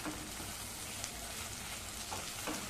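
Tomato masala sautéing in oil in a pan, a steady close sizzle with faint scraping stirs now and then, no voices.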